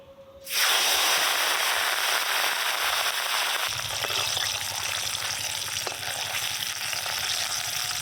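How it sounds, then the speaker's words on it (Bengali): Hilsa fish drops into hot mustard oil and erupts into a loud, continuous close-up frying sizzle that starts abruptly and holds steady, with a low bubbling rumble joining partway through. "পান্তা ভাতে খাওয়ার জন্য ইলিশ ভেজে নেব"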